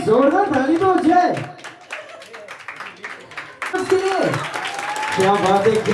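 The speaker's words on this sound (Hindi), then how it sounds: "बस जोरदार ताली दो जय।" Applause and clapping from the audience at a family sangeet, moderately close, in bursts mixed with a crowd of voices talking and someone speaking.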